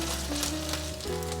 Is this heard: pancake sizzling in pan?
yes